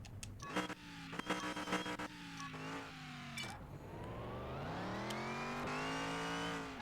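A truck in Car Mechanic Simulator 2021 starts with a few short bursts and shifts, then revs up into a sustained, rising engine whine as it drives off, fairly close and without talk.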